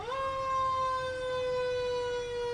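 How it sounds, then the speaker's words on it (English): Fire trucks from the Fall River Fire District blare a loud, sustained siren wail during a Fourth of July parade in Columbus, a steady rising-then-holding tone that stays strong throughout with no talking. "And they are not going light on the sirens today"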